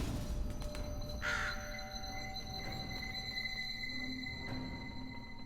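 A bird in the puzzle game The Room Three gives one short, harsh caw, with faint softer calls afterward over a low, steady ambient hum and sparse clicks.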